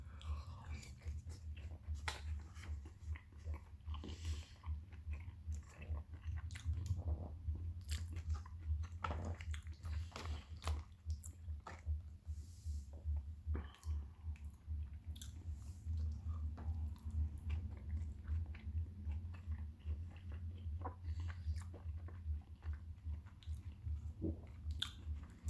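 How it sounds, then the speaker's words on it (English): Slimy dumplings are chewed close to the mic with a steady, wet, squishing rhythm and small soft crunches, quiet and continuous throughout, with no talking. "as you can hear me chewing and the sliminess of the chew"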